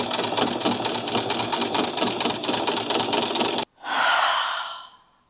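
A sewing machine runs steadily while stitching a waistband, a loud fast chattering rhythm for several seconds before stopping abruptly, followed by a short breathy exhale.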